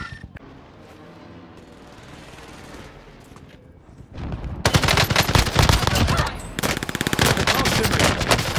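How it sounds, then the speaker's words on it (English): Gunfire in the video game Warzone: a quiet stretch gives way to loud, rapid automatic bursts of machine-gun fire, sustained crackling volleys with brief gaps between them. "Oh, gunfire."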